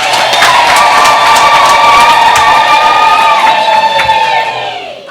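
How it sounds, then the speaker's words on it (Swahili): A church crowd at a new parish opening bursts into loud, sustained applause mixed with high ululation and cheering, filling the space for about five seconds before tapering off at the end. "Tumshukuru tena kwa makofi na vigelegele."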